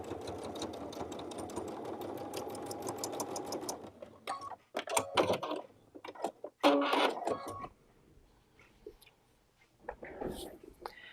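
Sewing machine with an adjustable bias binder foot top-stitching along fabric binding, running steadily and loud for about four seconds, then several short stop-start bursts with small handling clicks between them.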